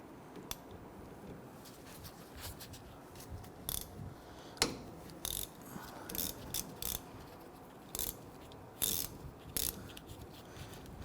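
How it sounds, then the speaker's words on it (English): A ratchet wrench with a 14mm socket clicks in short, sharp bursts while loosening the brake caliper slider pin bolts on a Nissan Frontier, close up, with quiet pauses between each series of clicks. "We're going to use our 14mm socket to loosen these two slider pin bolts."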